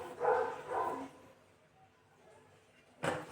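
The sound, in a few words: dog barking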